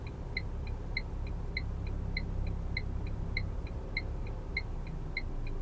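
A car moving slowly during a driving lesson, creeping forward with the clutch eased out on a downhill off-road stretch, gives a steady low engine and road rumble, with a faint, evenly spaced ticking like an indicator above it.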